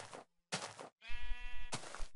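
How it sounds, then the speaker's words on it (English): Sheep in Minecraft giving a single harmonic bleat between short bursts of broadband noise, close and fairly clear. "Hear the sheep."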